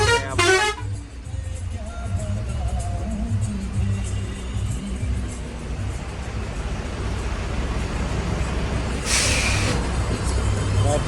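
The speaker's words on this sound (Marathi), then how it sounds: "ट्रॅफिक जाम झालाय." Vehicles stuck in a traffic jam on the road from Shrirampur to Dhule produce a steady rumble of engines, with a loud horn blast at the start and another near the end.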